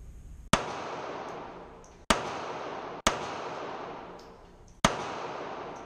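A small Seecamp pistol fires test ammunition in four loud, sharp shots spaced about a second or two apart, each crack followed by a long, fading echo.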